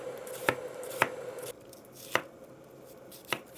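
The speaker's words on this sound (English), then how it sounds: "And then I like to slice across like this and keep them really thin." A knife slices thin rings from a peeled red onion on a board, with five crisp, evenly spaced cuts over a quiet background and no talking.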